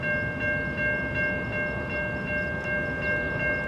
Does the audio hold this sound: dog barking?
no